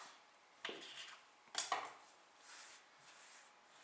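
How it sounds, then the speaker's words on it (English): A knife slices through a rolled log of Chinese dumpling dough, making two sharp, close clicks against the board with quiet pauses in between. "Once you've rolled it into like a sausage shape, cut it in half."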